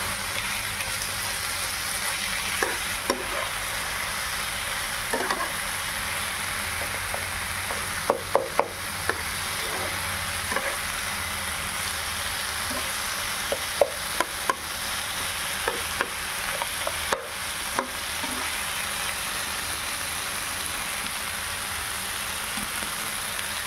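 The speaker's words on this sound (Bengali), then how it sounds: "মাছের কাঁটাগুলো এর মধ্যে দিয়ে দিলাম, দিয়ে সুন্দর করে মশলাটার সঙ্গে কষে নেব" Fish bones being stir-fried in spice paste in a pan, a steady close sizzle with occasional scraping stirs, no voices.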